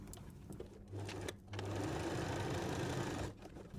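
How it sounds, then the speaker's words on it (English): A sewing machine stitching a seam on a fabric cutlery pouch, with brief starts and a pause, then one longer steady run of fast mechanical whirring before it stops, close and fairly quiet. "And then we'll sew the other side."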